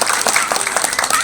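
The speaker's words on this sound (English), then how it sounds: "Give them both a big round of applause." Audience at an animal show featuring reptiles breaks into brief, lively applause, many hands clapping at close range with a voice faintly underneath.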